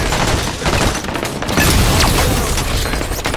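Hostile gunfire in Halo 5 Warzone makes a dense, loud barrage of blasts and booms, steady and continuous over the whole stretch.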